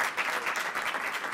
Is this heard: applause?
yes